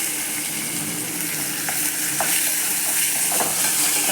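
Paneer gravy masala being stirred and fried in a pan, a steady close sizzle with occasional spoon scrapes against the pan, no voices.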